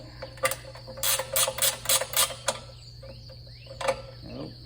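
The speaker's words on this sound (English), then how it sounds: "Sometimes you go a little too far with your ratchet wrench and you can't get your ratchet wrench out of there" A ratchet wrench clicks in quick, close bursts while loosening bolts on a Wood-Mizer sawmill during a cutter change, followed by a few softer metallic clicks in a quiet room.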